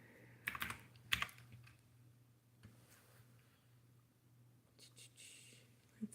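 Quiet typing on a computer keyboard during a casual chat stream, a few clattering bursts of keystrokes separated by soft gaps over faint background hum.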